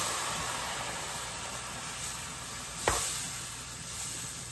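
Marsala wine poured into a hot pan for a pasta sauce, a steady broad hissing sizzle throughout, moderately quiet, with one brief sharper scrape or clink near the middle.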